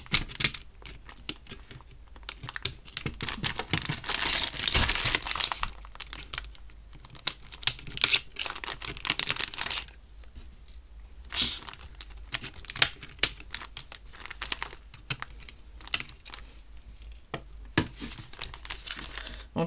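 Crinkly plastic bag of R2-D2 model parts being handled and torn open, a long run of close, dry crackling and rustling with uneven bursts and brief pauses.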